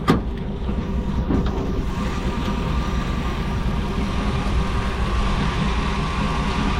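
A restored 1971 Chevy K20 pickup with a 2002-era 5.3 LS V8 and 4L60 transmission idles steadily nearby, a continuous low rumble with an even throb and no voices.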